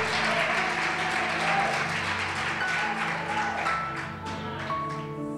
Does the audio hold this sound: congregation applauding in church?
yes